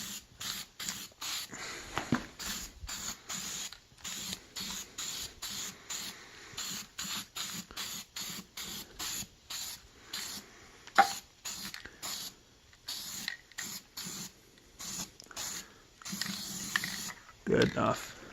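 Rapid bursts of spray paint hiss onto a rusty car rim in short repeated passes with brief gaps between them, close and clear, with occasional talk.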